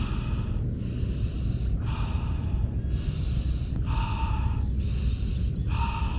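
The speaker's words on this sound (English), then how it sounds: "It's a nasal inhale." Slow, rhythmic Wim Hof style nasal breathing, about five drawn-out sniffing inhales in a steady cycle, close and clear over a constant low background hum.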